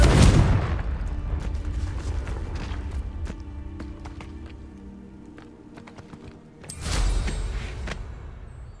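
A Confringo blast spell from the Hogwarts Legacy video game opens with a loud, sharp burst that decays into crackling clicks, and a second strong blast hits near the end.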